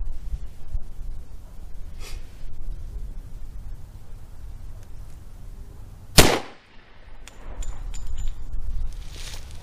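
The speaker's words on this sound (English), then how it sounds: "The last and final shot of the Jesse James into clear ballistics gelatin." A Norma 10mm pistol round is fired into clear ballistics gelatin as a single sharp, loud report midway, set against quiet outdoor background noise before and after.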